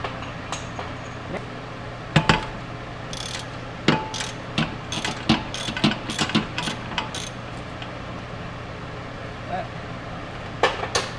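A ratchet wrench loosening a bolt on a Corvette during torque tube removal, with bursts of quick, close ratcheting clicks repeated several times over a low steady background hum.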